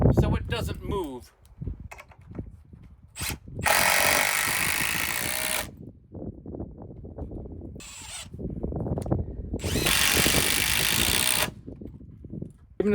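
A power drill drives a 4.5-inch timber screw into a long beam at a house build, in two loud, sustained whirring bursts of about two seconds each, separated by quieter handling sounds.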